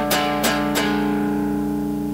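Rock riff on guitar for beginners, D section: three sharp strummed chord hits in quick succession, then a chord left ringing and slowly decaying, played alone with no talking.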